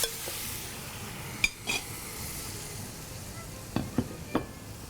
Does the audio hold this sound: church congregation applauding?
no